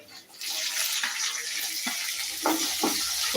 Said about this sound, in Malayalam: ഉള്ളി ഇതിട്ട് നന്നായിട്ടത് മുപ്പിക്കുക